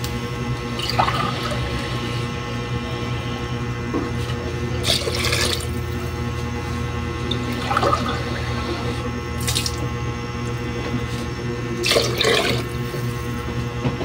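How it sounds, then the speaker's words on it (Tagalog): Water runs into a pot while native chicken cooks, a steady faucet-like rush with a few louder splashing bursts, close and continuous without talk. "Yan na natin tubig kasi palambutin na"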